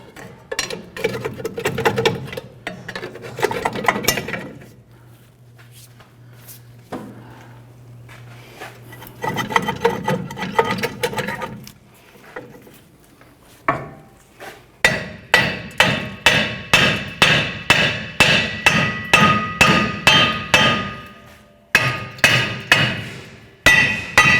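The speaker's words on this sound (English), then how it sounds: "Just using our pry bar, we're gently walking the drum off." On a 1994-2004 Chevrolet S10, a pry bar works the rear brake drum loose: irregular metallic scraping and tapping at first, then a fast run of sharp, evenly repeated knocks, close and loud.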